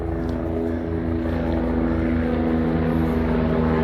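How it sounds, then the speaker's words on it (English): A helicopter passes overhead with a steady, fairly loud rotor and engine drone that holds throughout, with no talk over it. "Helicopter."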